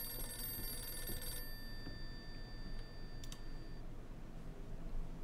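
In the horror game Visage, a telephone rings once in a short, bright, tonal burst that fades into a quiet, dark ambient drone, followed by a couple of faint clicks.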